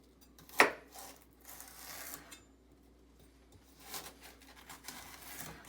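A kitchen knife chops celery into strips on a cutting board, one sharp close thunk standing out followed by softer scattered cuts and board taps at a quiet level.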